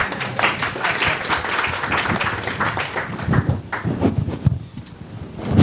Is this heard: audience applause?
yes